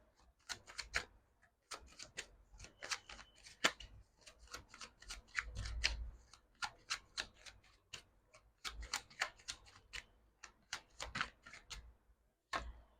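Tarot cards being shuffled and slipping loose, a quick run of light, crisp card flicks and taps in irregular bursts, close and quiet with no talking.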